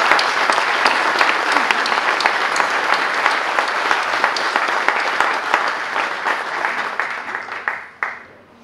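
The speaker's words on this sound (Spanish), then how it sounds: "para quienes pido un gran aplauso" A wine-awards audience applauds the competition jury of sommeliers, winemakers and journalists, a dense, steady wash of many hands clapping that holds strong for about seven seconds before thinning and cutting off near the end.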